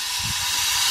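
A turbocharged VW Gol vents a loud, steady blow-off hiss up close, a continuous rushing burst like a pressure cooker letting off steam, running the full second without a break.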